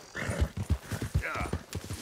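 Hooves of a horse clip-clop in a steady trotting rhythm in the video game Red Dead Redemption, close and fairly loud, with a brief whinny-like tone mixed in.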